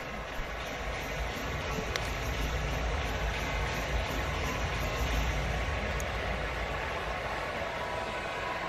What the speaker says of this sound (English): That's Bobby Dynamite, who drives the train when they hit a home run.